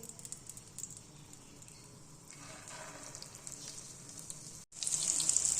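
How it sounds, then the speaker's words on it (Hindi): Shami kebabs frying in hot oil in a pan over medium heat give a steady, soft sizzle and crackle that swells louder toward the end, with no talking. "इसे पैन में ऑयल ले लिया, वो गर्म है, ठंडे ऑयल में नहीं डालना, ऐसे डालते जाएंगे"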